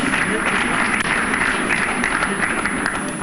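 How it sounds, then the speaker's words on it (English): A formal event audience gives a round of applause saluting a dignitary, dense continuous clapping from a large crowd, loud and sustained throughout. "salute the field marshal, Mrs. Akumungo CFR, with a round of applause"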